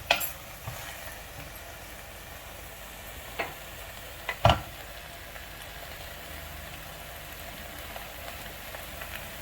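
Mutton sautés in a pan for a South Indian mutton soup, giving a soft, continuous sizzle with a few sharp clinks and scrapes from stirring, and no voice over it.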